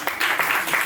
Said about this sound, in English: so you should applaud, but very politely